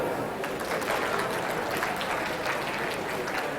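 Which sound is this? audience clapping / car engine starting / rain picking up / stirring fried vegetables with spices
audience clapping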